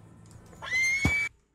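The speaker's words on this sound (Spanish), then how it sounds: "espérate, relinchando" A horse in Red Dead Redemption 2 lets out a single loud, close whinny lasting about a second, rising and then breaking off sharply, heard alone without speech.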